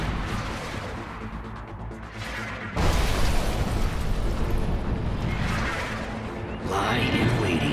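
Bombardment in Command and Conquer 3 Kane's Wrath: a steady rumble of explosions that swells into a louder, denser barrage partway through, with bursts and mechanical clatter and little talk.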